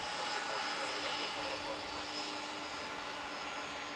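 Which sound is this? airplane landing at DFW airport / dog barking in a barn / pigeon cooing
airplane landing at DFW airport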